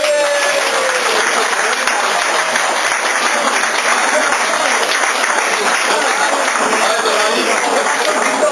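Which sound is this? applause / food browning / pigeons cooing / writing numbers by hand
applause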